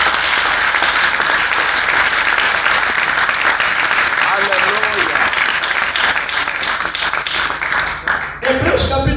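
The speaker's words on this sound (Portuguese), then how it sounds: "Dê uma forte salva de palmas ao nosso Deus." A congregation at a church night vigil breaks into loud, sustained applause with mingled cheering voices, holding strong for most of the stretch before tapering and cutting off near the end.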